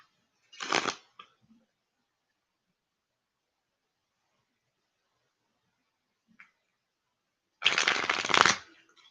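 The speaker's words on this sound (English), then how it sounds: "Right now, I just feel like shuffling this deck, just touching the cards" A deck of tarot cards being shuffled by hand: a brief riffle, a long quiet pause, then a longer crisp flurry of card slaps, close up with no talk.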